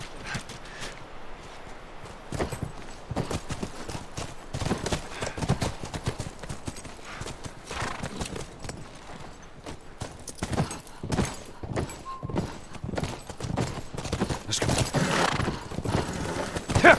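Horse hooves clip-clopping at a walk in the video game The Last of Us Remastered, with occasional neighs and whinnies over quiet ambience, uneven and moderately close.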